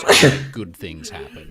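A single sharp human sneeze bursts out at the start, loud and close, followed right away by a person speaking.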